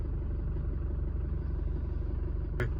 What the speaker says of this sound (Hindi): केबिन तक आवाज आता है, हल्का स्टीयरिंग पे भी वाइब्रेशन है।